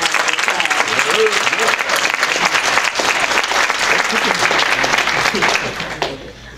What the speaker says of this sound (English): Let's give Jordan a applause